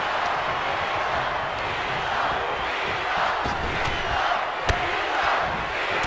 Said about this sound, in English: Randy Orton feeding off this electric crowd